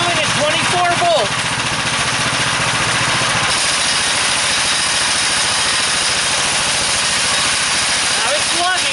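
A DC generator engine with an epoxy-reinforced permanent-magnet alternator lugs under electrical load, giving a loud, close, continuous drone whose tone drops and roughens partway through.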